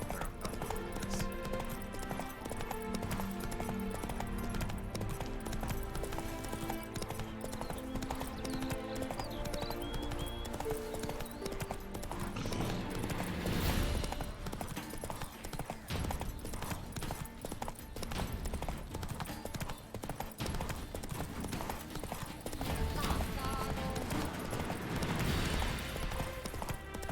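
Roach the horse in The Witcher 3 trots along with steady clip-clop hoofbeats, heard continuously under a dense bed of game music and ambience.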